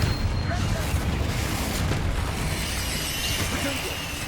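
Explosive bursts from the Confringo blasting spell in Hogwarts Legacy, a dense, loud rumbling boom that stays heavy throughout with little pause, close and full in the low end.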